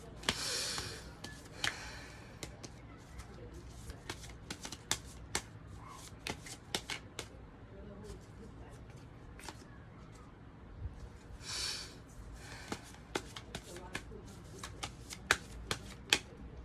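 Tarot cards are shuffled and laid out close by, with two riffle bursts and many sharp flicks and snaps of cards placed on a surface.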